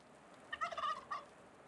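A turkey gobbles in a folk-tale story scene, one rapid burbling call near the middle, moderately loud against a quiet hiss, with a short final echo.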